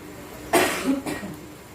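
A single short dry cough, close and fairly loud, followed by a softer second burst, with quiet room tone around it.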